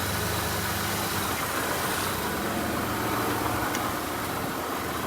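Steady idle of a Toyota Camry engine shifted into drive, with a possible bad CV shaft and worn rubber mounts, a loud continuous close hum and rumble without talking.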